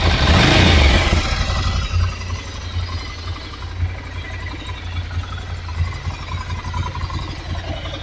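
A Triumph Speed Twin 900 motorcycle engine revs loudly at first, then settles into a steady, throbbing idle with a low pulsing rumble, close by.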